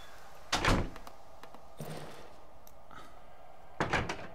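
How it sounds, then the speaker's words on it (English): Wooden door handled in the survival horror game Darkwood: a few dull knocking thuds and a sliding scrape, spaced a second or more apart, fairly quiet and close with a low background hiss. "I'm gonna close my door."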